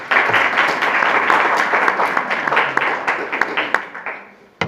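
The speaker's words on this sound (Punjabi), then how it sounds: "ਇੱਕ ਵਾਰੀ ਆਪਣੇ ਨਾਮ ਤੇ ਜ਼ੋਰਦਾਰ ਤਾੜੀ ਮਾਰੋ ਸਾਹਿਬ" Audience applause for participants in a quiz competition at a rural NGO clubs' event marking Guru Nanak Dev Ji's Prakash Purab, dense and steady clapping from a crowd that fades out at the end.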